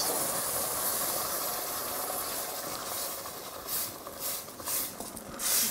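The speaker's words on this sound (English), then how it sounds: "Now that sauce needs to simmer so that it's able to cook" Fresh tomato sauce for an okra and orange-fleshed sweet potato masala, simmering in a pan with a steady, broad hiss that holds throughout and swells slightly near the end, no voices.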